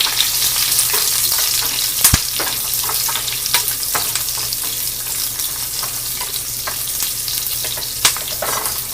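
Onion and greens sauté in a pan for a ridge gourd bassaru, a close, even frying hiss broken by a couple of sharp utensil taps and light stirring, with no one talking.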